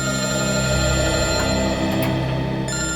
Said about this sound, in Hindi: सर, टूर कंपनी वालों का फोन।